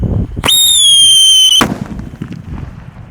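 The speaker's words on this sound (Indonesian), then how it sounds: "Kita nyalakan mercon rambu dibuntel dengan kertas." A firecracker wrapped in paper goes off with a sharp crack, a shrill whistling tone lasting about a second, then a loud bang followed by scattered crackles fading outdoors, with no voices.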